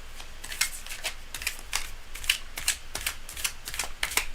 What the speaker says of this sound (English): that's kind of the whole point of shuffling, to make everything really pristine and reset to zero.